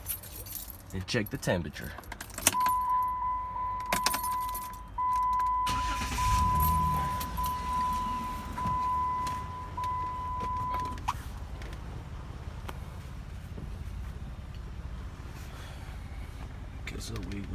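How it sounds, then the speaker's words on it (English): Keys jangle in the ignition of a Dodge Nitro, a warning chime tones steadily, then the engine cranks and settles into a low idle rumble. A person talks intermittently throughout. "Go ahead and put the key in the ignition, start the engine,"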